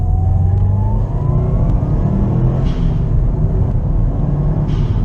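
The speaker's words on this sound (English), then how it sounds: "We'll slow down and do the same type of second gear acceleration." Subaru WRX STI in sport sharp mode pulling hard through second gear, a loud close engine note climbing steadily in pitch over a deep rumble, with no voices.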